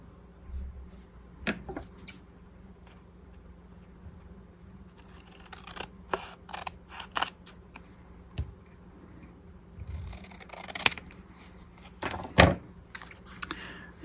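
Scissors trimming the edge of a handmade cigarette card: a few quiet, scattered snips and light taps spread across a soft room background, with no talking.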